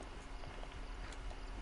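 Horse hooves clip-clop at a steady walking pace in Red Dead Redemption II, moderately close and fairly quiet, with no voices over them.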